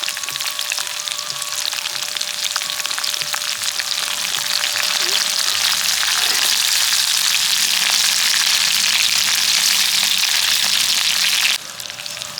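Garlic, chili and potatoes frying in hot oil in a wok during village cooking of mustard flower greens, a continuous loud close sizzle that thickens as more is added, with faint stirring and no talking.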